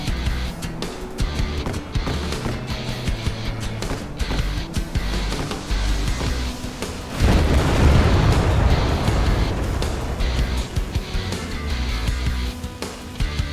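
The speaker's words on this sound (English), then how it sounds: "dropping free-fall guided bombs onto targets below" Free-fall guided bombs dropped on air defense units at a naval base in Nuclear Option detonate in a long string of heavy booms and crackling blasts, rising to a louder, denser rumble midway, with no talking.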